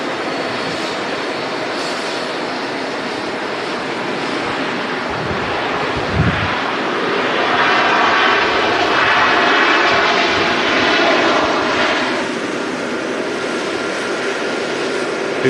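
A fixed-wing airliner taxiing past at Manchester Airport, its engine roar swelling from a broad steady rumble to a louder peak midway before easing, with wind buffeting the microphone throughout and no talk.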